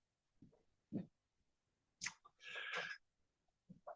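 A single short human sneeze in an indoor room, quick and close, set among faint background sounds and brief muffled noises.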